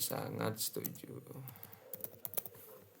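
Computer keyboard keys are pressed for a Ctrl F shortcut, giving a cluster of crisp clicks and taps while a person speaks nearby.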